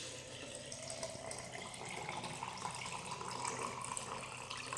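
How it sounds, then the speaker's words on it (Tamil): Water is poured into a jar of curry leaves to make detox water, a soft continuous trickling stream that stays faint and steady throughout, with no voices over it. "இதில் தண்ணியை ஊற்றிக்கோங்க"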